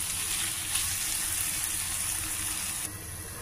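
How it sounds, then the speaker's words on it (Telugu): Okra (bhindi) frying in a pan with salt and turmeric for a masala fry makes a continuous, fairly loud sizzling hiss that drops off abruptly near the end. "కూరకి తగినంత ఉప్పు, పసుపు, బాగా కలుపుకుని వేయించుకోవాలి బెండకాయలు."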